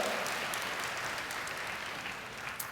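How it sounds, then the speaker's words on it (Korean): A church congregation applauds in welcome during a Sunday service, soft, steady clapping heard from a distance in a reverberant room, fading slightly toward the end. "여러분께 박수로 환영하시죠."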